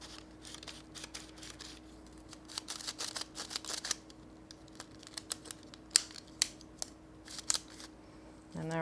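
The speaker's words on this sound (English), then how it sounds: "with this one, all we have to do is ratchet." Clicking of a 35mm film developing reel as its two halves are ratcheted back and forth to load film, giving a run of sharp, close plastic clicks in quick irregular bursts over a faint steady hum.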